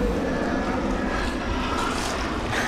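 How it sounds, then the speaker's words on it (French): A helicopter passes overhead as a steady, loud engine and rotor drone that fills the short clip, with no talk over it. "il y a un hélicoptère qui passe"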